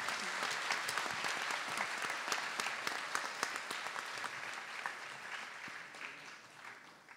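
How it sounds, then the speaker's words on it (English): An audience gives a dance teacher a round of applause at a classical dance performance, a dense burst of clapping that starts loud and gradually thins out. "a round of applause."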